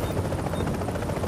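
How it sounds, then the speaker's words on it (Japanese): A helicopter in the video game The Division, its thick rotor thrum droning steadily under a busy game soundscape, with a player talking faintly at times. "ヘリ、ヘリコプター"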